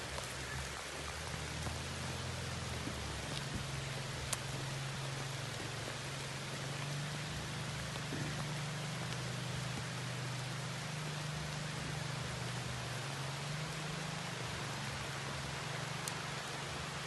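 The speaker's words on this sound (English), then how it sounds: "Starting to rain heavy" Steady heavy rain pours down, a dense continuous hiss of drops drumming on surfaces with a low rumble underneath, no voices.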